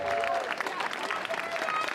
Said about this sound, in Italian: Io esco da qui, mi fate l'applauso.